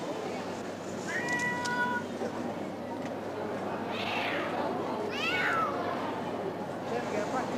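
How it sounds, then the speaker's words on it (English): A distressed cat meows several times, drawn-out unhappy cries rising over a steady low background hum, with people talking quietly around it. "The cat's not happy."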